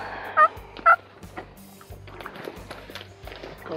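A wild turkey in a Florida swamp gives two loud, close gobbles in quick succession, followed by soft rustling footsteps through the undergrowth.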